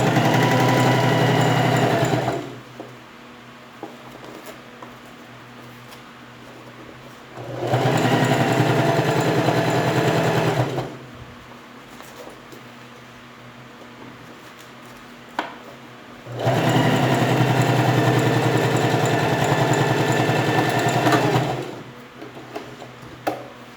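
A sewing machine stitches a school pencil case in three long, loud runs of steady motor whir, each lasting several seconds, separated by quieter pauses filled with faint hum and handling noises.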